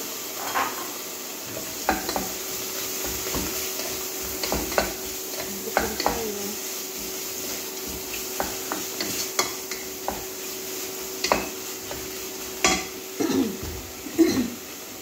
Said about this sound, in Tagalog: Sunod ko lagay yung skin at saka ulo ng shrimp guys.